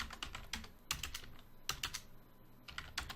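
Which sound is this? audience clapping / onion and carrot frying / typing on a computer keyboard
typing on a computer keyboard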